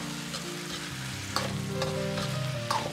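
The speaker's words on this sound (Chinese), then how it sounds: "快速的翻炒均匀" Ginger-scallion chicken with red pepper and sauce being stir-fried in a wok, a steady loud sizzle with scraping spatula strokes and periodic clanks of metal on metal, no voices.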